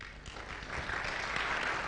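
Audience clapping at a tech talk and web development graduation, a steady wash of applause from a room of people that swells slightly partway through and continues evenly to the end.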